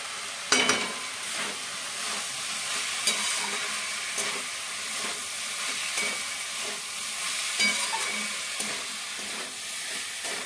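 Banana flower curry being stirred in a pan with salt, cumin and coriander powder, a steady sizzle under scraping strokes that come back at irregular intervals, close and fairly loud, with no talking.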